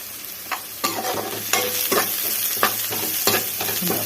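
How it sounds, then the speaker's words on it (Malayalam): Mustard seeds and fenugreek frying in oil in an indalium pan, a steady close sizzle with sharp popping crackles and stirring scrapes at irregular intervals. "ഇതിനകത്ത് എണ്ണ ഒഴിച്ച് കടുകിട്ട് ഉലുവയിട്ട്"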